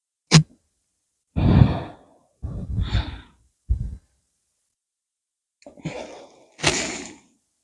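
Several soft exhaled breaths during a standing yoga exercise, each a breathy whoosh lasting about half a second, spaced out with pauses between them, close and fairly clear, with no talking.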